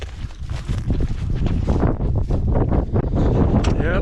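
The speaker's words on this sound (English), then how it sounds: "Yeah, it's getting windy again." Heavy wind buffeting the microphone, loud roaring gusts with rumbling low noise throughout, blowing steadily close up.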